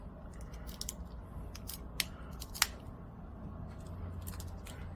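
Scissors snip through a crab leg shell along its thinner underside, a few crisp, short cuts standing out above a low, steady background with no talking.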